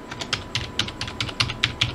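Someone types a root password on a computer keyboard. About a dozen quick, crisp keystrokes click in an uneven rhythm, close and alone over about two seconds.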